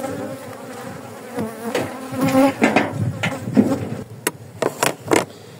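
Honey bees buzz densely around a hive in a garden apiary, a steady swarming drone with individual insects zipping close past, punctuated by a few sharp knocks.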